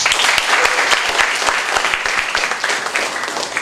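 Student OSIS officers at a state junior high school in Lamongan break into steady applause, a dense crowd of claps sustained at close range throughout with no talk over it.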